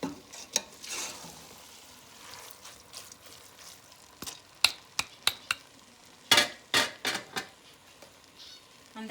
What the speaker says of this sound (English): I want to stir this up a little